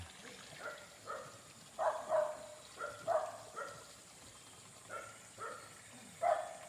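Dogs barking on a rural roadside near a spring, a series of faint, distant barks repeating irregularly about every half second to second over low outdoor background.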